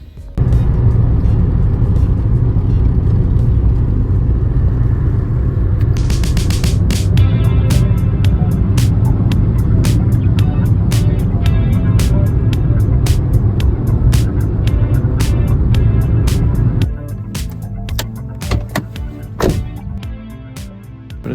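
Steady road drone of a secondhand car being driven, a continuous low engine and tire hum heard from inside with intermittent clicks and rattles, quieter toward the end.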